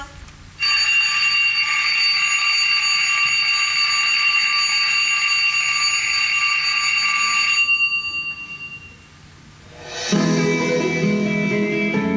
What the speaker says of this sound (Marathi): तो अलार्म वाजून थकला आता. बंद कर त्याला एकदाच.